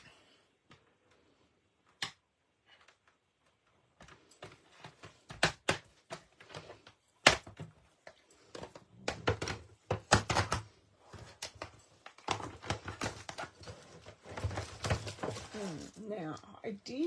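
Small scissors snipping a paper piece for a stamped handmade card: crisp, close, irregular clicks and cuts, sparse at first and then coming in quicker bursts.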